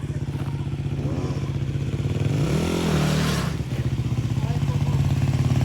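A motorcycle engine revving through a drift U-turn attempt, a close, steady throbbing that rises to a louder rev midway and then settles back, with a person speaking over it.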